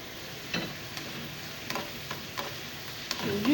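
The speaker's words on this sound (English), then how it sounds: "So you allow the tomato to fry a little bit before you put the garden egg." Tomato frying in a pan for garden egg sauce, a soft continuous sizzle with a few spaced stirring scrapes and taps, close but fairly quiet, with no one speaking.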